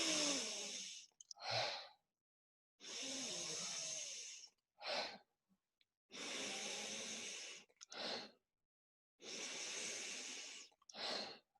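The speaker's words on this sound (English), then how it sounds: "let's start by breathing in through the nose and out through the mouth" Slow, deep breaths alternate in a steady rhythm: long airy inhales through the nose followed by shorter breathy exhales through the mouth, close and alone with quiet pauses between.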